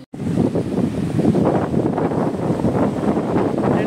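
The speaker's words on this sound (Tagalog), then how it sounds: "Lalaki ng alon." Large ocean waves crash and roll continuously at close range, a loud, broad wash of surf mixed with wind buffeting the microphone.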